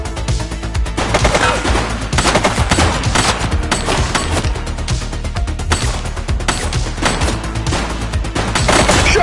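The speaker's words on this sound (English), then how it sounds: "Shots fired!" Dense, loud video-game gunfire rolls on without a break: overlapping bursts of rapid shots and booming reports fill the whole stretch, with no clear voice over the top.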